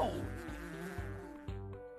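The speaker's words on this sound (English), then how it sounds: "Look, here come some bees to pollinate the flowers." Bees buzzing in a Sesame Street children's shape-garden game: a steady, tonal cartoon buzz with a soft rhythmic pulse about every quarter second over a short two-second stretch.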